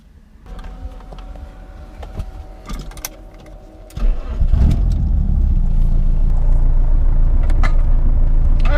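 A BMW drift car fitted with a Nissan engine cranks and fires up about halfway through, then settles into a loud, steady, close idle that runs to the end after quieter background noise.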